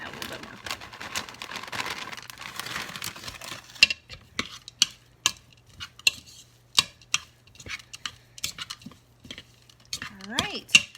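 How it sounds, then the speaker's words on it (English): A spoon stirs oat cookie dough with chocolate chips in a bowl, giving a run of close, sharp clicks and scrapes, irregular at first and then steadier, with faint background sounds between strokes. "And then I'm gonna stir this together."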